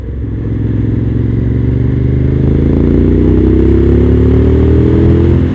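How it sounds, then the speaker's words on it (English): Suzuki TL1000R V-twin superbike pulling hard under full throttle on a straight road, a loud, steady engine drone rising in pitch as it accelerates, close and continuous with no talk. "Handfuls of throttle are just mandatory on straight roads."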